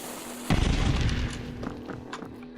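Blocks being destroyed in an Eldritch video game map, a sudden booming crash followed by a second of rumbling debris and a few smaller scattered cracks that fade out.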